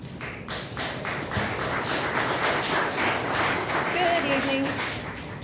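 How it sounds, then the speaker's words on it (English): Clapping and crowd noise at a school board meeting, a dense stretch of applause from a room of people mixed with voices that tapers slightly at the end. "Could we refrain from applause and jeers, please?"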